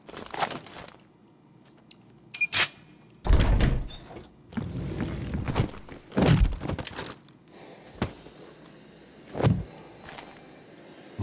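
A door in the Call of Duty Black Ops Cold War video game opens with a series of loud thunks, bangs and creaky scraping bursts spread over several seconds, with no talk.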